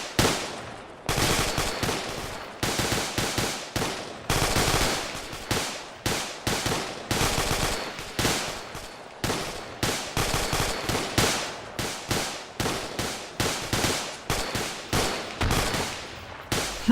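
Rapid automatic gunfire from the ArmA 2 military video game during a multiplayer infantry training exercise, loud bursts and single shots repeating in quick, uneven rhythm almost without pause, near and sharp.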